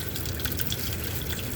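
Water drains steadily from a gas line pipe on a Richmond/Rheem hot water heater, a continuous close hiss and trickle with faint drips and no talking.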